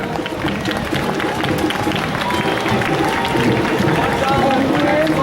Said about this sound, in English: A big round of applause for the band.